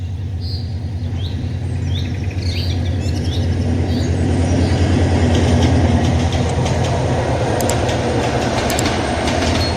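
Brahmaputra Express intercity train pulling out from Piyarpur station on a Jamalpur to Dhaka run, a loud steady rumble of wheels and wagons throughout on a winter village morning, with faint bird chirps above.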